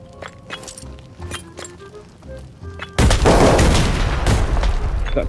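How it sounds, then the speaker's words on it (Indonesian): A car bomb goes off in the Arena Breakout shooter game: after a few seconds of light metallic clinks and tones, a sudden loud blast erupts and rumbles on heavily to the end. "Awas, gue mau bom mobilnya."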